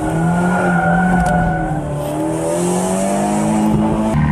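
A rear-wheel-drive Fiat Abarth 124 Spider roadster accelerating hard on a test drive in Dubai, its engine note climbing loud and close through the gears with a brief shift dip.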